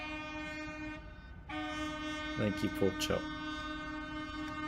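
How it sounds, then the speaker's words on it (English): In the city-building video game Cities Skylines II, a train horn holds a long, steady, loud tone with a short break, while someone talks briefly over it. "Big horn to wake us up. Although I think I'm reaching the point where even the train horn isn't enough."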